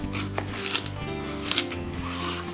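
A knife chops the ends off mini cucumbers with a few quick, crisp taps on a board, faint and close against low background hum.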